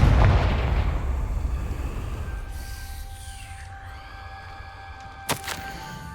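A Confringo spell in Hogwarts Legacy sets off a big explosive boom at the start that rumbles and fades over several seconds. Soft magical tones ring underneath, and a sharp second crack comes near the end.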